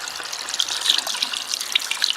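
Running tap water trickles and splashes steadily as hands are rinsed at a sink, close and continuous for a couple of seconds with no voices.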